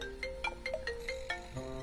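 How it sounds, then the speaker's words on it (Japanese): A telephone plays its ringtone, a melodic electronic sequence of repeated bright notes in a steady rhythm, heard clearly and fairly close for nearly two seconds. "電話電話。 どこだ？"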